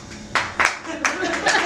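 A small comedy club audience gives a sparse, brief round of applause, a few scattered claps rising and falling over about a second and a half.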